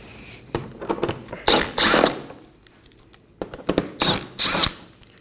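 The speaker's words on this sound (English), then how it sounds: "We're going to make our way under the vehicle and remove 8 10mm bolts." Power tool and ratchet work removing 10mm bolts under the front bumper of a 2020-or-later Toyota Corolla: several short loud bursts of drilling and ratcheting with brief pauses between, close up.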